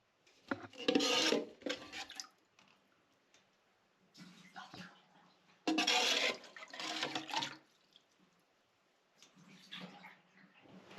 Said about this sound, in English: use a plastic cup and drain all the water from the tank